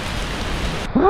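Steady, dense rain hisses on a surface, close and constant, on a steep, muddy road to a waterfall in Thailand, ending with a brief higher-pitched sound at the very end.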